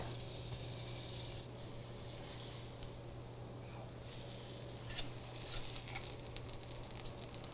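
Banana bread slices sizzle in butter in a pan, a constant soft frying hiss with a low hum underneath, occasional scrapes and taps from a utensil near the end.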